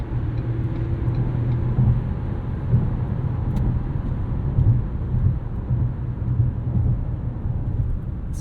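A 2016 Ford Taurus SHO sedan, a 4,300-pound car, pulls hard off the line with a steady, loud low engine drone and road rumble heard from inside the cabin throughout.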